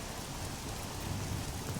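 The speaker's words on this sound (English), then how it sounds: "does it always rain in this godforsaken land?" Steady rain falls in the Oblivion video game, a continuous dense hiss with low rumbling texture throughout and no voices.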